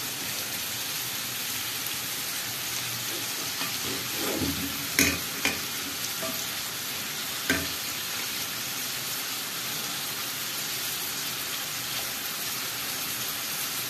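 Lamb liver, kidney and heart fry in a pan with a constant crackling sizzle. A few scraping clinks from a spoon stirring are heard near the middle.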